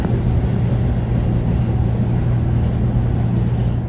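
A SEPTA elevated L train rolls through Philadelphia toward 69th Street, giving a steady, loud rumble of car and wheels with a faint high squeal above it, continuous with no talking.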